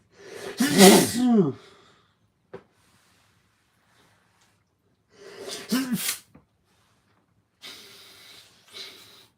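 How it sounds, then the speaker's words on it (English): Two forceful sneezes close by, each with a sharp inhale before the burst, separated by silence, followed later by softer breathy sniffs. "I need to sneeze."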